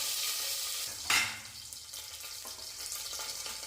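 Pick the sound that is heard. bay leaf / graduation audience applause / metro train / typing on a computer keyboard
bay leaf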